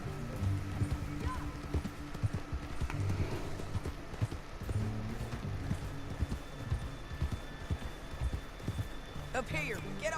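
Horse hooves clip-clop steadily through a canyon in Red Dead Redemption 2, a close, rhythmic trotting beat that carries throughout, with a brief whinny near the end and a tonal game score and voices running underneath.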